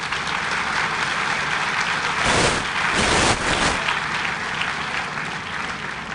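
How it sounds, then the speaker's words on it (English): Graduation ceremony audience at the Teachers' Colleges of Jamaica applauding the keynote speaker, steady clapping from a large crowd that swells to a louder burst in the middle and then settles back down. "let's give our keynote speaker another round of applause"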